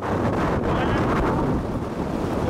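Strong wind buffets the microphone in a constant loud roar, gusting slightly with no voices heard.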